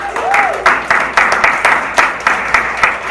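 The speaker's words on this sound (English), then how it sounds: "Okay, hold your applause to Liam." A room full of people at an awards banquet clapping steadily, with individual claps audible in a regular rhythm and a brief voice at the start.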